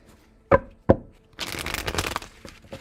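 Tarot cards being shuffled during a reading: two sharp taps, then a rapid riffling flutter of cards lasting about a second before trailing off, close and clear with no talking.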